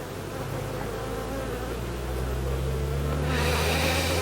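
Honeybee colony buzzing during a winter hive inspection, a dense close-up drone of many bees alone, steady and growing slightly louder.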